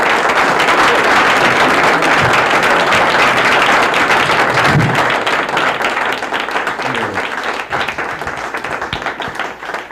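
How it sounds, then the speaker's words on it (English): Audience applause for comedian Phil Van T at a 1985 stand-up show, loud sustained clapping from a crowd filling the whole stretch and easing off slightly toward the end. "A nice round of applause, Mr. Phil Van T."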